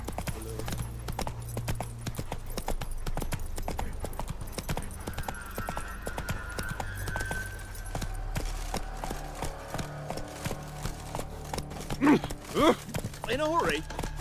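Roach the horse gallops in the game Witcher 3, hooves clip-clopping in a steady running rhythm under game music and a voice, continuing through most of the stretch.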